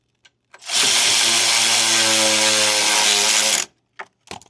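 Cordless power tool driving fasteners on a Husqvarna wheeled string trimmer, one loud steady whirring burst of about three seconds, followed by a few short clicks and taps.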